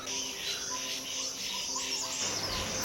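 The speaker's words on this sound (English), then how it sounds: "Few busy streaked laughing thrushes were also around." Streaked laughingthrushes calling in a Himalayan forest near Sattal, bright repeated chirps over a constant insect and cricket drone, moderately distant with no voices.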